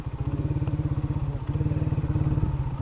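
A motorcycle engine idles and runs at a parking spot near a picnic area at Halishahar, Chittagong. Its close, steady rapid thumping continues throughout with slight swells, and no one talks.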